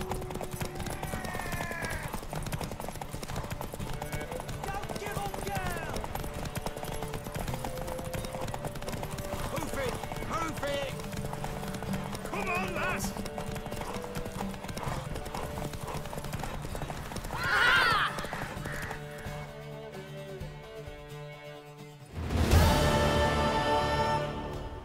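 In The Witcher 3, during a horse derby race, hooves clip-clop steadily on the ground at a trot and gallop, with occasional snorts and a horse whinny near the end, all under game music and ambience.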